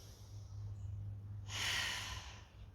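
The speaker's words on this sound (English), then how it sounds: "breathing in, into my belly" A deep inhale drawn into the belly during a belly-breathing exercise, a soft airy rush swelling near the mic for about a second over a low steady hum, with no talk.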